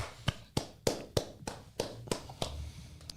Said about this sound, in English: I don't know if an applause is really appropriate